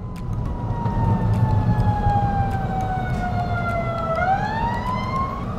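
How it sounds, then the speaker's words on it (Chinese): A fire truck siren wails from a vehicle on the opposite side of the road, heard from inside a moving Tesla Model Y; the loud tone glides steadily down then sweeps back up over a constant rumble of road and engine noise. "对面有消防车"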